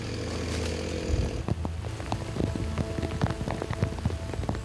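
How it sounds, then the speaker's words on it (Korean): Rain beginning to fall in a forest where a crew is cutting trees, scattered drops tapping on surfaces over a low motor drone that eases off early, with the patter growing busier. "급기야 하나둘 떨어지기 시작하는 빗방울."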